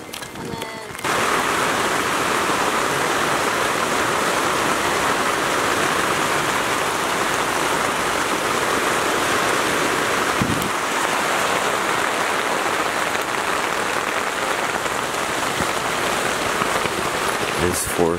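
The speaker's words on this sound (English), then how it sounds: "But now it's raining and there." Steady rain falling over a road-trip campsite, a dense continuous hiss that starts abruptly after a brief moment and holds evenly, with a faint thump near the middle.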